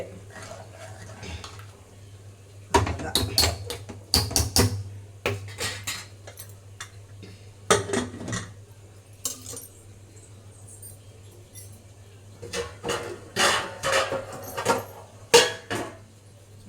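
A spoon scrapes and clinks against a cooking pot as banana stem kootu with coriander is stirred, in bursts of metallic clatter with quiet pauses between.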